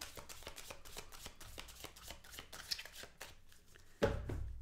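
Tarot cards shuffled by hand in quick riffling bursts, close and fairly soft, followed by a louder thud of the deck near the end.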